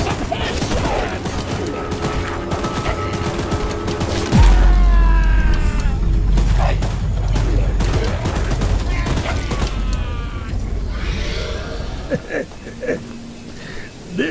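Mounted gun firing in the video game Choo Choo Charles, heard as rapid bursts of gunfire with heavy booms and impacts under music and game sounds, loud and close.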